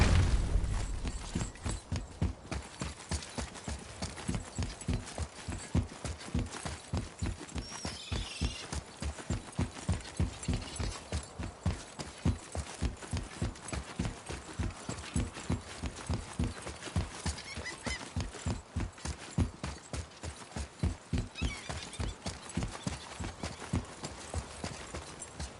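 A horse's hooves clip-clop in a steady, even trot for a long stretch in God of War (2018), sharp rhythmic hits over a soft background.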